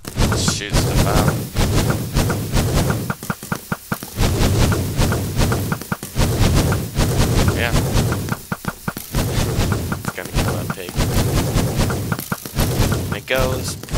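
A Minecraft machine gun built in the game fires a rapid, sustained stream of loud thumping shots, with short pauses between volleys, under occasional talk.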